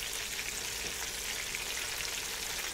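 Breaded wild channel catfish nuggets frying in hot oil, a steady close crackling sizzle that runs evenly and alone, with no voices.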